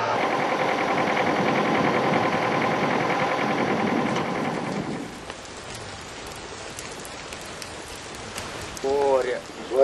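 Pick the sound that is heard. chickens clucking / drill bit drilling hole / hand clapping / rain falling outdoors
rain falling outdoors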